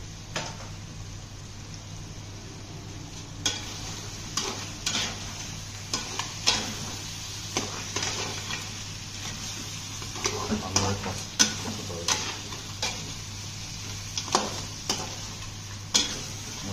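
Crabs tossed into frying spice paste, with a quiet sizzle under repeated scraping and clinking stirs of a utensil against the pan, faint and close, with occasional soft voices.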